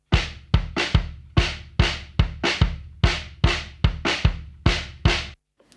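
Kick drum with a heavy 4 kHz EQ boost through an SSL console, giving a sharp clicky attack; about fourteen hard, evenly spaced hits with short decays, loud and close, with faint snare bleed between them and no talking.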